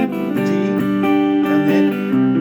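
Close acoustic guitar strumming the chords of a song, changing every beat or so in a relaxed, even rhythm, with no voices over it.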